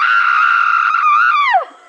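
An actress on a horror film set lets out one big, loud, sustained scream that holds steady for over a second, then bends downward and trails off abruptly.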